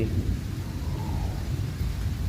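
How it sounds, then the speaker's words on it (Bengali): Steady rain falls in a dense, low rumbling wash, with a deep thunder-like roll underneath throughout. "বৃষ্টি পড়ে, বৃষ্টি পড়ে"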